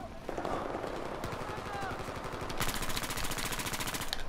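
Video game gunfire rattles in rapid automatic bursts. The shots grow into a dense, continuous stream of loud, closely spaced reports over a busy background of game sounds.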